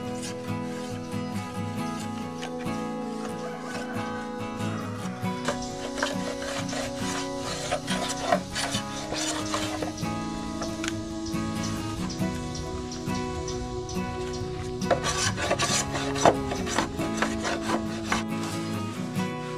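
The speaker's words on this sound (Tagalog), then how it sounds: "kinaskas ko muna yung balat niya para mas malinis tignan." Bamboo poles have their bark scraped off by hand with repeated rough rubbing and scraping strokes. The sound is close and moderately quiet, an uneven, continuous rasp with occasional sharper scrapes.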